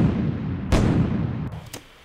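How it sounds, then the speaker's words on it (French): A rumbling explosion sound effect played through a delay plugin booms and then repeats as a second burst, with short sharp echoes trailing off near the end. "Exemple, là j'ai mon son d'explosion, si je joue une fois, au minimum je pourrais mettre 2 délais."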